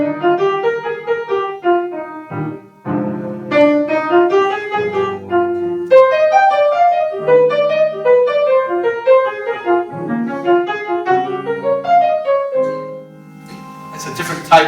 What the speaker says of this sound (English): So we can try a flowing line over the chords.